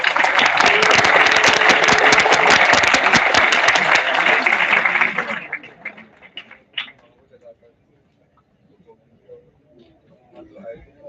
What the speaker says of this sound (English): can we have a louder round of applause for everyone?